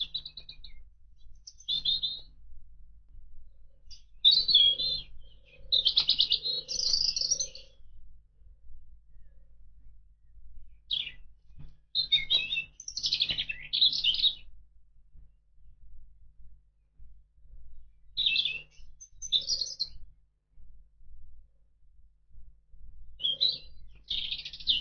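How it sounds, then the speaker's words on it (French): European turtle doves and great tits in a quiet outdoor setting, with short bursts of high chirping and tweeting phrases repeated every few seconds, separated by near silence, moderately close, with no voices. "tourterelles des bois et mésanges charbonnières entament un duo"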